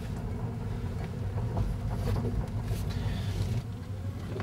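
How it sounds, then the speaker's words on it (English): A 2012 Prius C hybrid rolls along a gravel road, steady crunching tyre rumble filling the cabin with a low continuous roar and no engine note standing out. "How's that for a quiet car, apart from gravel road?"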